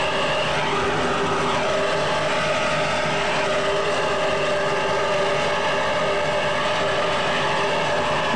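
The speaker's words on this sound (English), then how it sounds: "Listen to those engines. It's a race all by itself." Racing powerboat engines roar loud and steady, a sustained low drone with droning harmonic tones that hold through the whole stretch, with no speech over them.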